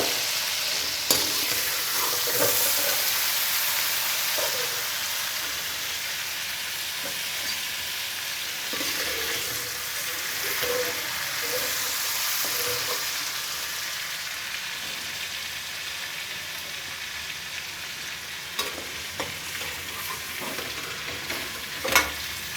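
Chicken frying in a pan for karela gosht, browned golden, with steady sizzling and crackle while it is stirred, the spoon scraping and clattering at intervals; close and continuous, no talking.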